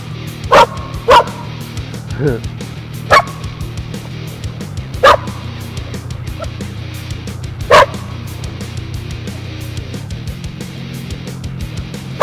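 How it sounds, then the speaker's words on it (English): A dog barks in the distance near a river, with several sharp, separated barks spread over a steady low background hum. "You hear the other dog? There's a dog down there somewhere."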